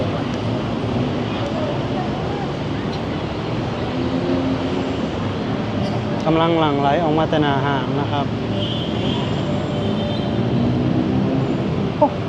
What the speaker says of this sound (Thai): เวลารถไฟ แล่นผ่าน